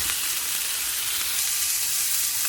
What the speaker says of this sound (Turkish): Etin suyu akıyor ama et suyuyla ve yağ ile beraber pişiyor.